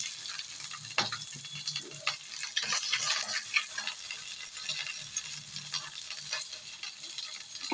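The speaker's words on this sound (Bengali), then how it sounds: "এবার বাকি মাছগুলো আমি আস্তে আস্তে ভেজে নেব" Pieces of katla fish fry in hot oil in a pan, a steady crackling sizzle with scattered sharp pops and ticks throughout, close and moderately loud, with no talk.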